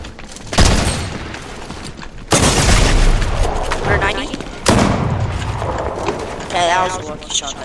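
Shotgun blasts boom in a video game, with three loud close shots spaced a couple of seconds apart, each followed by a rolling tail, as someone talks throughout.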